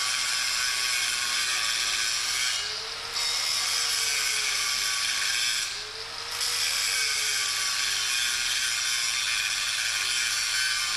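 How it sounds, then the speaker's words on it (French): An angle grinder fitted with a fine wheel back-gouges a MAG butt weld, a loud steady high whine running continuously with two brief dips as the wheel eases off the steel. "Saignez à la meule fine."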